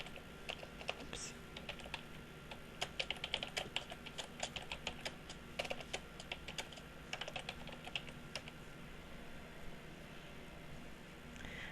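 Rapid clicks of a computer keyboard come in short bursts and pauses, close and fairly quiet, with typing that speeds up and trails off over several seconds.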